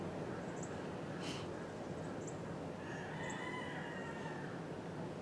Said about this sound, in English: a couple of roosters crowing